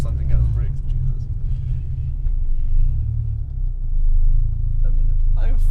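A Renault Clio engine runs after throttle body and catch can work, a steady low rumble close by, with brief talk over it.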